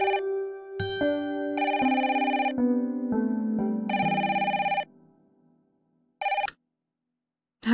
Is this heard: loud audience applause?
no